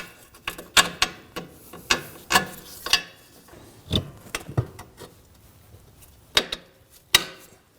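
A ratchet tightens a sway bar link bolt into the rear control arm of a 2013-2015 Subaru XV Crosstrek, giving irregular bursts of sharp clicking strokes with short pauses between, close and clear without talk.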